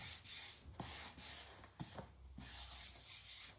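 Steady rasping scrape of sandpaper rubbing back and forth along the grain of freshly painted wood, close and continuous with brief pauses between strokes.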